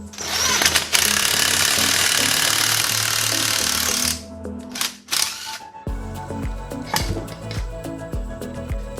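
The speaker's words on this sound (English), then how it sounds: "now it's time to press this crank out so we can change the bearings" Pressing the crankshaft out of a minibike motor with a shop tool, a loud sustained mechanical whirring for about four seconds, then a pause and short bursts of rattling, clunking machine noise.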